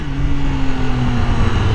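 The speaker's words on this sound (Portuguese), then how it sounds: "Por ser uma moto de 800 cilindradas, era pra gastar bem mais." Triumph Tiger 800 motorcycle with an 800 cc engine, ridden in town, hums with a loud, close, steady engine note for under two seconds.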